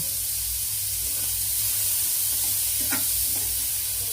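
Vegetables for fried rice fry in a pan with a dense, loud, steady sizzle and hiss, broken by a few soft stirring scrapes, close up and without speech.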